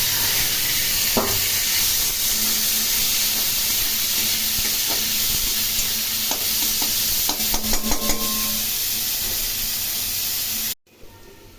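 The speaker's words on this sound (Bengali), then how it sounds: "এদিকে পেঁয়াজগুলো আমি ভেজে নিচ্ছি" Chopped onions and potatoes frying in oil in a hot wok for a Bengali chicken curry, a loud continuous close sizzle with scattered stirring clicks and scrapes, ending abruptly; no talking.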